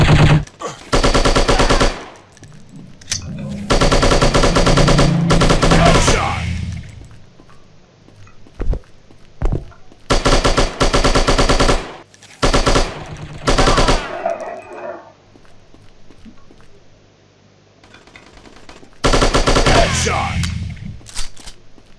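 Bursts of rapid automatic gunfire from a shooting video game blast loudly in several long volleys separated by brief pauses, with a few isolated single shots between them.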